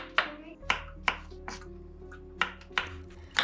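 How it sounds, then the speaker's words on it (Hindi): Mushrooms chopped with a knife on a board, about seven crisp, close knocks at uneven intervals with brief pauses between them, alone without talk. "मशरूम्स को मैं यहाँ चॉप कर रही हूँ"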